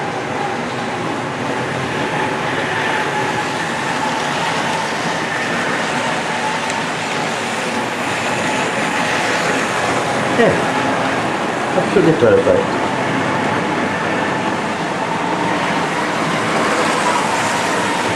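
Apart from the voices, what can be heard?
Tri-ang Budd DMU model railcar running on track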